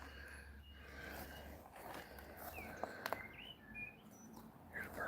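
Outdoor birdsong drifts in faintly with scattered chirps and short whistled phrases over a low steady hum, a few sharper calls standing out near the middle and end.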